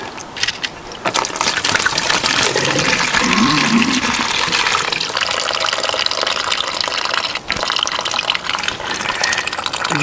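Water flushes through the coolant hoses of a Triumph Tiger 955i motorcycle, making a loud, continuous gushing and pouring with a few sharp clicks, close by and with no voices.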